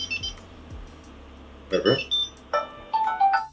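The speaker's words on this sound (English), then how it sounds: "I press this button twice." A phone rings after a Tile tracker button is pressed twice: a few thumps of handling, then bright repeating electronic ringtone chirps in the latter half, close and fairly loud.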